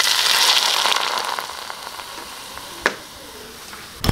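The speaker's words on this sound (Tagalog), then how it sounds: "Ibubuhos natin sa ating luya, asin, at saka dahon ng sibuyas." Hot oil poured over ginger, salt and scallions for lau gan ma beef skin gives a bright hiss that fades steadily, followed by a couple of short clatters near the end.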